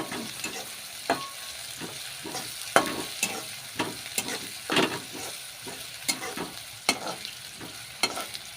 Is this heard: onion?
yes